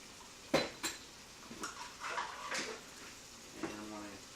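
Flour is stirred into beef burgundy in a cooking pot: faint metal scrapes and clinks of a spoon against the pot, a few sharper knocks among them, heard close but quiet.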